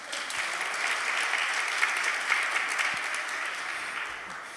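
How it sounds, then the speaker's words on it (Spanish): Audience applause at a popular science talk in a bar, a steady, moderately distant wash of clapping that holds for several seconds before easing slightly at the end. "Un aplauso para Juan."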